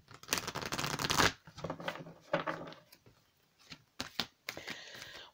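Oracle of the Unicorns card deck shuffled by hand: a loud riffling burst, then several shorter bursts of cards slapping and sliding, close and clear with quiet gaps between them.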